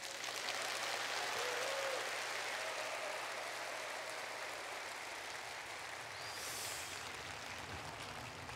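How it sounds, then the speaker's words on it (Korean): A concert audience claps at a traditional Korean music performance, a soft, distant, steady wash of applause with a low hum beneath it. "한 분 더 박수 주실 수 없을까요?"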